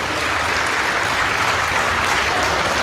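A large audience claps loudly and steadily for a few seconds at a Hindi comedy stage event, dense continuous applause with no pauses.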